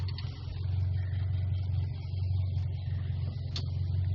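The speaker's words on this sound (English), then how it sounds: "let's see if she cranks" Mitsubishi Lancer engine cranking over without starting, a steady low whirring churn from the starter that runs unbroken for several seconds, fairly loud and close with no talk.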